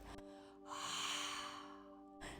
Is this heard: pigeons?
no